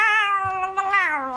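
A cartoon cat gives one long, drawn-out meow with a steady, gently falling pitch, close and clear with no talking over it.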